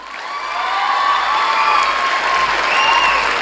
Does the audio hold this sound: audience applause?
yes